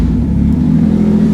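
Toyota 2JZ engine with a single turbo in a Nissan 240SX, running steady and loud right after starting, a dense, close, low rumble with no pause or talk.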